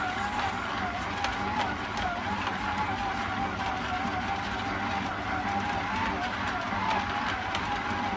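A stand mixer kneads ciabatta dough at speed 2, giving a loud, steady motor whir with a wavering whine that runs unbroken from start to finish.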